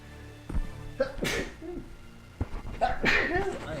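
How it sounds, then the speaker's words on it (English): Two sharp sneezes, the second louder and more forceful, each followed by a brief breathy aftermath, recorded close up. "Sorry about sneezing."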